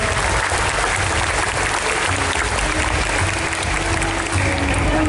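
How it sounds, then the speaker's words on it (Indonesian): Steady audience applause fills the space, a dense continuous patter of many hands clapping at moderate loudness with no single voice standing out, heard at a theme park in Jakarta. "Dan suara tepuk tangan penonton akan membuat Anda jauh ke dalam."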